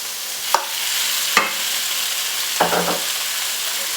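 Beef sizzles in a pan with golden, caramelized onions for a beef sauté, a constant frying hiss broken by three sharp scraping stirs of a utensil against the pan.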